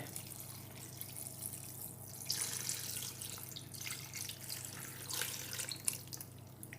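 Cooled rice cooking water poured from a container into pickled greens, a soft, steady splashing trickle with brief louder gushes, close and quiet over faint background hum, no voices.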